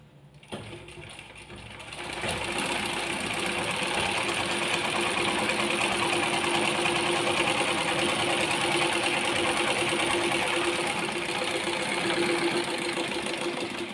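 A sewing machine stitches over an existing seam on fabric, starting with a brief click and then running as a loud, steady, close whir for about twelve seconds with no talk.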